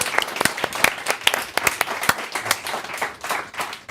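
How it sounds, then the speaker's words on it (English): A small hackathon audience claps together, a dense burst of overlapping hand claps with sharp individual slaps standing out, steady and moderately close throughout with no talk. "We can clap"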